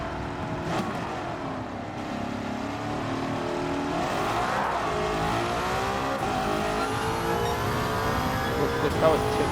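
A 1955 Mercedes W196 R race car in Gran Turismo 7 revs its engine continuously, a loud, steady high-pitched drone that climbs toward about 9,000 RPM, with a voice talking over it.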